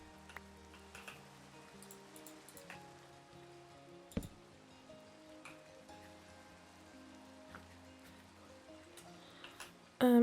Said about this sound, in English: Sometimes I feel like the rain is really loud.